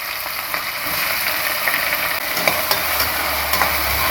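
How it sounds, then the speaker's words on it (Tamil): Onions sautéing with spices in a pan for mutton biryani, a continuous bright sizzle with occasional clicks of stirring, close by and moderately loud. "லைட் ப்ரௌன் கலராக செவக்கிற அளவுக்கு வதக்கலாம்"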